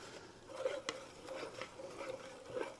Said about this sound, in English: now we're going to give it a nice stir